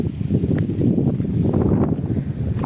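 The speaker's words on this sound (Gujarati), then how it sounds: "કેમ કે પવન બહુ છે" Steady, loud wind buffeting the microphone outdoors, a continuous low rumble with gusty swells and no voices.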